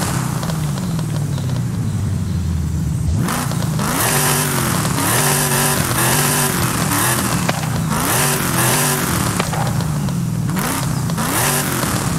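A car in Forza Horizon 5 with its exhaust removed revs loudly and harshly in repeated bursts, the engine note climbing and dropping again and again.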